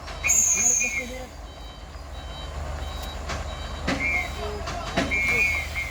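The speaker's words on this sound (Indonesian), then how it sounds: "Nggak mampu trailernya naik di tanjakan Kedabuhan. Mati roda remnya bosku." A tractor-trailer truck stalls on the steep Kedabuhan incline with failing brakes, its low engine rumble running steadily beneath repeated high reversing beeps and sharp air-brake hisses, with voices faintly around it.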